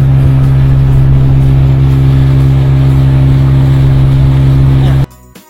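A speedboat engine drones loud and steady at close range on the roughly hour-long crossing to Dao Island in Rote Ndao, a constant low throbbing hum that cuts off abruptly near the end.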